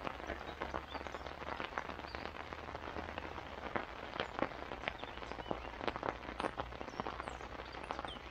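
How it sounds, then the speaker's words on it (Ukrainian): Heavy rain pours down outdoors at a night fishing camp. The dense, steady hiss is broken by many sharp drop impacts close by, and nobody speaks. "Вже почався серйозний дощ."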